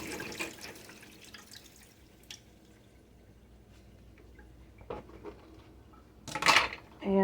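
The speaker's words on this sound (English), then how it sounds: "I'm just going to drain all that water off." Water drains off boiled potatoes and yuca in a kitchen, a soft running trickle with drips, followed by a louder clatter of a pot and lid near the end.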